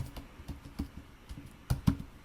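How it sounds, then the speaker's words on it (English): Keys tapped on a computer keyboard while entering details into a web hosting control panel, an irregular run of soft clicks with a couple of firmer strokes near the end, close and quiet. "Then you're gonna type in your"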